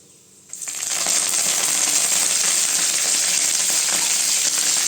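Dried red chilies and curry leaves dropped into hot oil for a beetroot and chana dal stir-fry, a sudden loud crackling sizzle that bursts in and holds steady and close, with no talk.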